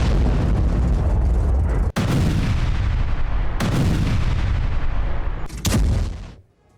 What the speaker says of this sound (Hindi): रूसी सैनिकों ने हॉवित्जर से किया है हमला